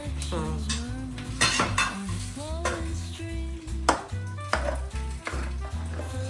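Ground paste stirred into a pan for Mangalorean adaka mavina gojju, with scraping spoon knocks and clinks of metal against the pot over a low sizzle, set against steady background music.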